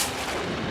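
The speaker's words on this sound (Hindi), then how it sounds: "ये तो गोली की आवाज है" A loud, dense burst of gunfire-like noise that fills the short moment without letting up, with no voices.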